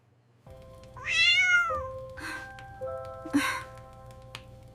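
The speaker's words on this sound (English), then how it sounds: "That sounds like... a cat?" A cat meows a few times, one drawn-out rising cry followed by two shorter calls, heard nearby over a low steady hum with faint tones in the background.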